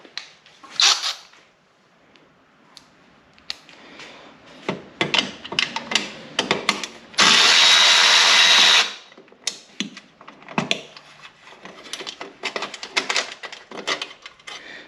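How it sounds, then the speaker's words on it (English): A cordless ratchet removing belly pan bolts from an Arctic Cat Thundercat or Sidewinder snowmobile: about a second and a half of steady, close mechanical whirring, surrounded by scattered clicks and handling noises. "I think I need my cordless ratchet"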